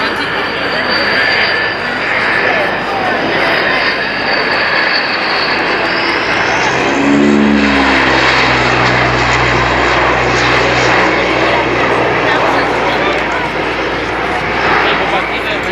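A large 50-tonne aircraft makes a low go-around beside the runway at an air show, its engine roar swelling loud and near midway through, then a steady droning pass, all under crowd chatter and commentary.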